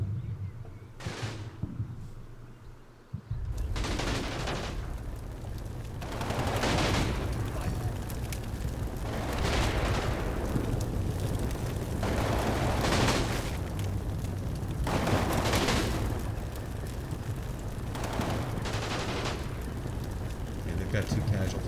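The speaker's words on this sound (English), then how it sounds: "There's some small arms fire over here." Small arms gunfire in the Combat Mission Red Thunder war game: repeated bursts and sharp cracks over a rumbling battlefield bed, recurring every couple of seconds at a moderately distant level, with someone talking over it.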